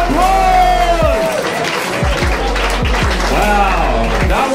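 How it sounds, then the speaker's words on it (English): A crowd at a live comedy roast battle claps and cheers loudly, with a voice talking over the applause and low thumps underneath. "give it up a big round of applause!"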